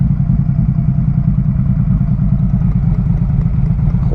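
A 2009 Harley-Davidson FLHTC trike sits in neutral with its V-twin idling. The loud, close, steady loping beat carries a slight mechanical clatter and runs throughout without talk.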